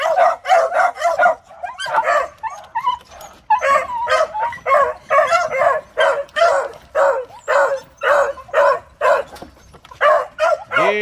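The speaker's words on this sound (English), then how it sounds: "She's gonna start barking on that cage for a minute." A rabbit-tracking hound barks inside a kennel cage, loud and close, firing off rapid runs of repeated barks with brief pauses and a few yips mixed in throughout.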